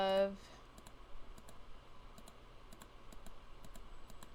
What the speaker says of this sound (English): So I just want to keep clicking till I add